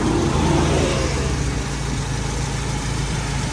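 A used car's engine runs steadily at a rural car dealership in Khon Kaen, a loud, close, even hum that settles after a slight early rise, with no one talking.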